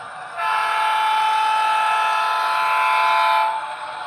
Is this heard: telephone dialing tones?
no